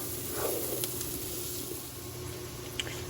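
Mushrooms sizzle in butter in a pan with a steady, close crackling hiss, broken by a few small pops.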